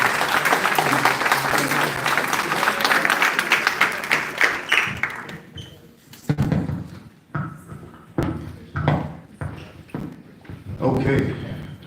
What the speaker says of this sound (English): give a round of applause for the 2 gentlemen